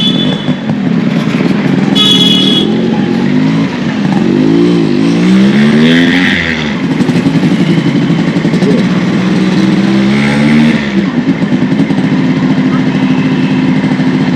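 A fully restored Yamaha RX 100 motorcycle ridden on the road, its loud two-stroke engine rising and falling through revs with steady wind rush, while a rider talks over it.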